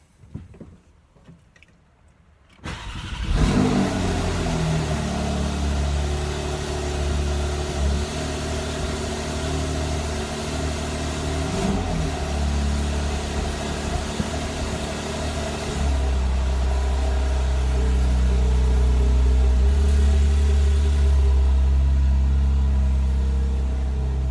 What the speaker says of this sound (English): why don't we just fire it up to see how it goes